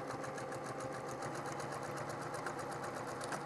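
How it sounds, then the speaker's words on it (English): A sewing machine stitching a cork adventure journal runs steadily and close up, its needle hammering in a fast, even rhythm for a few seconds with no pause and no voices. "Another little backstitch at the corner there to catch it."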